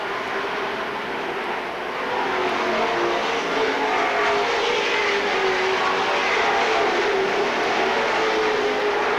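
Stock cars at Seekonk Speedway in 1984 roar past three wide into the first turn, a dense, sustained engine drone that swells after a quieter start and stays loud throughout.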